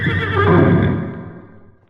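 A horse, the winged Pegasus, gives a loud, close whinny that rises then trails off over about two seconds, heard alone with faint hoof clatter beneath.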